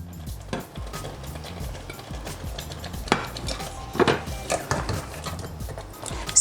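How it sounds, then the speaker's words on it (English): Meat being stirred into a simmering jollof rice stew in a pot, irregular scraping and knocking of a utensil against the pot over a soft bubbling background, no talk. "Stir it, get all the stew to coat."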